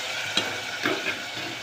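Pigeon pea (tuvar) grains tipped into hot tempering with potatoes, giving a steady close sizzle of frying with a couple of brief stirring scrapes and clicks.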